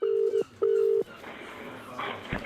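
A telephone rings twice with steady electronic tones, loud and close, followed by a hum of room noise and a click as the line is picked up.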